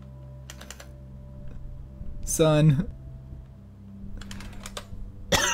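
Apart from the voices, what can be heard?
typing on a computer keyboard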